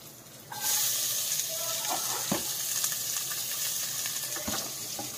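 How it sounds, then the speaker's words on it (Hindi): Chopped onions hit hot oil in a pan for moong dal paratha, bursting into a sudden steady sizzling hiss with a few light clinks of utensils. "दो कटोरी डाले हैं, 2 प्याज डाले हैं। अभी भून जाएगा थोड़ा।"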